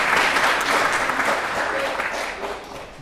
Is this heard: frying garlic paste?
no